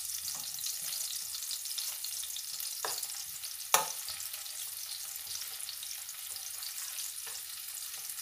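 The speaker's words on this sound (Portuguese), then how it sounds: "não tem coisa melhor que o perfume de uma cebola e de um alho refogando" Onion and garlic sizzle steadily in a hot pan, a constant frying hiss broken by a few clinks of a utensil stirring.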